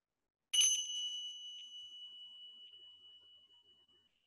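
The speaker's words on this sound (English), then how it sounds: "we're gonna have a bell to start and a bell to end" A meditation bell struck once to begin practice, a clear bright ring that starts abruptly and decays slowly into a long, faint, shimmering tone over quiet silence.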